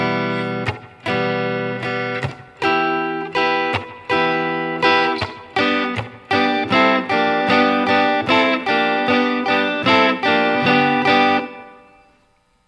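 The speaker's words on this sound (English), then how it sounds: "So let's play that riff all together." Electric guitar strums a riff in steady, evenly spaced chord hits that grow busier midway, close and alone with no voices, ending abruptly.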